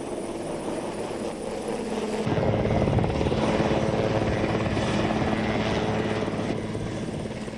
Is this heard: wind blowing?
no